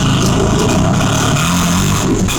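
An auto rickshaw on an Indian street gives off a loud, steady engine drone with rough rumbling texture, continuous throughout, with no voices.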